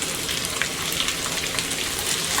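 Onions, shallots and green chilies sautéing in a pan for shrimp curry, a steady dense sizzle and crackle with scattered pops, continuous and close.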